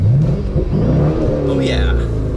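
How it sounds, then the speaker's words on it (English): A 1999 Chevy Corvette with an LS1 V8 is revved up close by, the engine surging from idle into a loud rising growl and settling back, with a voice speaking briefly over it. "let me rev up this Corvette. Let's hear what we're dealing with."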